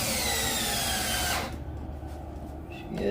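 A power drill driving deck screws into wood, a loud close whirring run that stops abruptly partway through, followed by quieter handling noise and a brief restart at the end.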